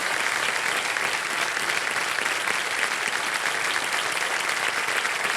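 Sustained studio audience clapping on the game show Kaun Banega Crorepati, a thick, even wash of applause filling the hall at constant loudness from start to finish.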